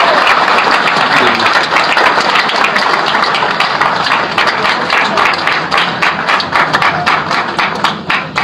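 An audience at a Phyto Atomy company announcement event claps loudly and steadily, a dense sustained burst of applause filling the room without speech over it.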